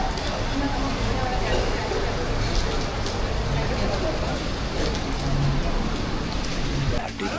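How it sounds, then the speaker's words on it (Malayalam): Heavy rain during a family trip in Malaysia pours steadily as a dense, continuous hiss of drops on surfaces, loud and close, with faint traffic underneath. "നല്ല മഴയുണ്ട്"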